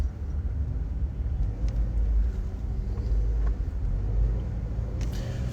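Inside a car driving through city traffic, a steady low engine and road rumble fills the cabin, with faint passing noises and no one talking.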